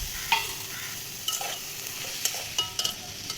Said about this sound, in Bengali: কয়েকটা আলু কেটে রেখেছি সেটা দিয়ে দিলাম